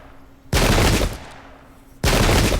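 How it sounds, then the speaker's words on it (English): Musket volleys in Pike and Shot, two loud crashing bursts of massed gunfire, each starting abruptly and lasting about a second, the second volley arriving about a second and a half after the first. "Look at that return fire"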